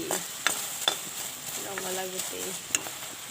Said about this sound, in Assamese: আন চাইডে মই ভাজি আছোঁ এয়া ৰঙালাও গুটি